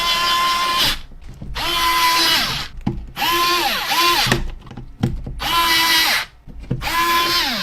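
A power screwdriver removing the screws that hold the top handlebar of a Tronsmart Bang Max boombox speaker: about five close, loud whirring bursts that rise and fall in pitch, separated by brief pauses.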